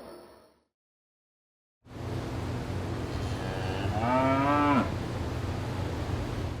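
A single cow moos once, close and clear, over steady outdoor background noise in an Indonesian village.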